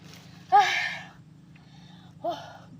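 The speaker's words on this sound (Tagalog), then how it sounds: "Hinihingal ako, grabe." Heavy, breathy panting from a man worn out after hauling in a heavy catch of tilapia: two loud gasping breaths a second or so apart, close to the mic, over a steady low engine hum.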